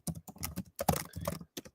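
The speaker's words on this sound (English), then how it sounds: "typing it in right now" Rapid bursts of typing on a computer keyboard, close and fairly quiet, with uneven clusters of keystrokes separated by short pauses and no talking.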